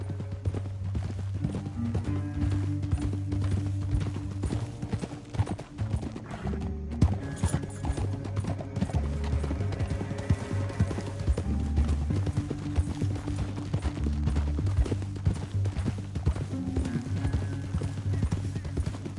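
Horse hooves clip-clop in a steady galloping rhythm alongside occasional whinnies, layered over continuous music throughout, in the video game Red Dead Redemption 2.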